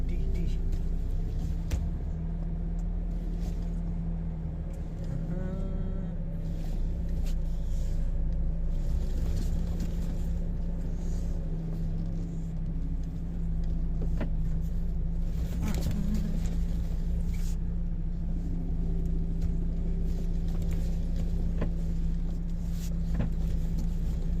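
Truck engine rumbling steadily from inside the cab while maneuvering to drop and pick up a container on a European road, a constant low drone with occasional clicks and knocks, moderately loud.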